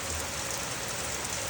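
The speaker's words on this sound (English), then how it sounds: "the sky got dark and suddenly a rainstorm in the early a.m." Steady rain pours in an early morning rainstorm, a dense, even hiss of drops falling on surfaces close by. It holds without break, with no voices heard.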